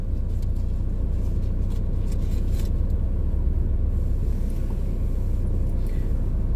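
Inside a moving car, a steady low road rumble fills the cabin, with faint brief ticks and rustles on top; no one speaks.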